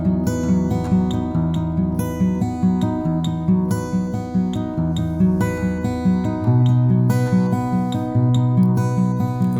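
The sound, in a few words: guitar playing the chorus of a song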